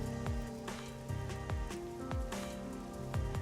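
Steady rain pours down in the busy, neon-lit Kamasaki District of Kanai Ward in Master Detective Archives: Rain Code, a continuous wash of falling water with no talk, broken by a few low thuds.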